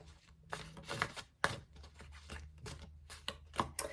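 Tarot cards being shuffled by hand, a series of quiet riffling and slapping bursts in an irregular rhythm, close and soft with no speech.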